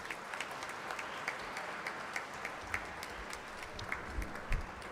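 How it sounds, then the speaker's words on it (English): Sustained applause from a large standing audience at a lecture event honoring a swami, a steady dense wash of clapping with a few sharper individual claps rising above it throughout. "Standing ovation, a round of applause to Swami Sampurnanandaji, a huge round of applause"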